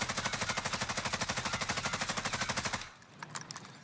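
Bruin light machine gun in Call of Duty Warzone, a sustained rapid-fire burst of evenly spaced shots for nearly three seconds, then stopping abruptly, leaving faint clinks and quiet game ambience.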